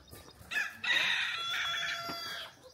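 A rooster crows in an oasis setting near a fort in Nizwa, Oman, one long cock-a-doodle-doo with clear harmonic calls rising and holding for about two seconds, fairly close and loud.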